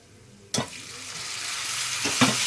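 Spices for kabuli chickpeas frying in a pan, a sharp sizzle rising as a splash of water hits, then a steady hiss with a second burst of stirring near the end; close and fairly loud, no voices.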